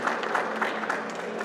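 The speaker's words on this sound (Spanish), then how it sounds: "nuevamente un fuerte aplauso para el ingeniero Lozada" A symposium audience on tunnels and underground works claps for a speaker, a dense, even wash of applause filling the room for a brief moment.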